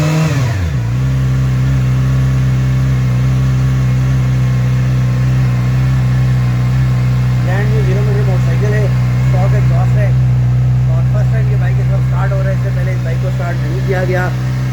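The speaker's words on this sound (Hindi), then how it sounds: "ये 0 मीटर मोटरसाइकिल की फर्स्ट स्टार्टिंग है" A brand-new zero-meter Yamaha R6 sport motorcycle fires up on its first start and settles into a steady, loud idle with a strong low hum, while people talk over it in the background.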